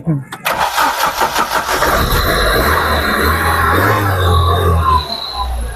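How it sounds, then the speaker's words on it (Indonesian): A car with a 2200 cc SOHC engine cranks with a quick stuttering whir, catches, and settles into a steady idle rumble, with a voice speaking briefly at the start. "coba kita nyalain mesinnya"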